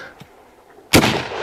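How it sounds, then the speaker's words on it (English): A single sharp rifle shot from a Winchester 1895 Russian contract musket, a sudden close blast with a broad ringing tail after a brief quiet lead-in. "Russian contract 1895 Winchester musket"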